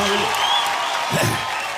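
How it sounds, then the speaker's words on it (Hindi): Applause from an audience at a stage show, a dense continuous patter of clapping with a voice breaking through near the end. "तालियां प्लीज, तालियां, तालियां"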